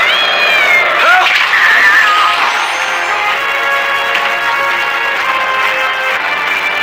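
A cat gives long, drawn-out meows with wavering pitch, loud and close, over a dense background of music and effects in an animated story.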